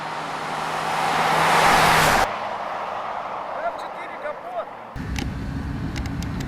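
A modified street car in Yakutsk roars off at speed, a loud rising engine rush that cuts off abruptly, followed by quieter street ambience and later another vehicle's rumble; people chat nearby.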